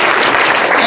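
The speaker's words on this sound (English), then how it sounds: "Let's give one more round of applause." Applause from an audience at a professional development event fills the room with dense, loud clapping that holds steady through a brief burst.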